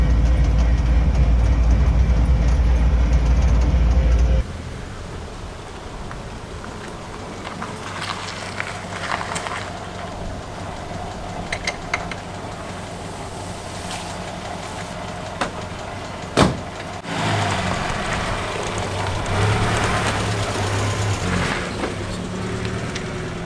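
A Land Rover Series 3 is driven along, its engine and drivetrain rumbling steadily with occasional knocks and rattles. An even louder, heavier drone is heard for the first few seconds before the sound settles to the running vehicle.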